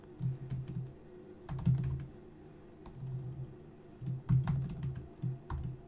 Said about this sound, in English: you can just type in your question